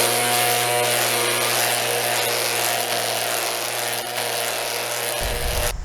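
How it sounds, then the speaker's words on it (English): A string trimmer whines loudly and steadily against a wooden fence post, a constant high-pitched motor buzz with the line whipping at the wood for several seconds, then cutting off abruptly near the end. "Watch what happens on this piece of fencing,"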